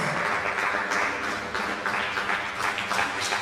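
Continued audience applause after a talk on women and AI, a brief stretch of many hands clapping at a moderate, even level.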